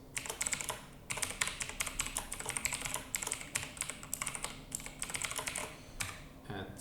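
Someone types code on a computer keyboard, a steady run of quick, close key clicks with small pauses and no talking.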